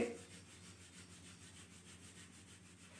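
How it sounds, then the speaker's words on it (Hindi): Two palms rub briskly together in a steady back-and-forth swish, a soft, rhythmic friction sound close by that continues without a break and with no voices. "दोनों हाथों को आपस में रब करिए,"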